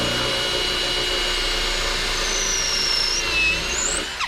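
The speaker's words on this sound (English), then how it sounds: "I just come back with my drill" A power drill driving a screw while building a fence gate whirs steadily at close range, its motor pitch rising and falling briefly near the end.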